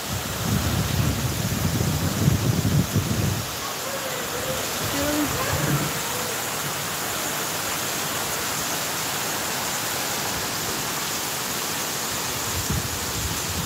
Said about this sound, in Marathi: वारा पाऊस आहे, वारा पाऊस.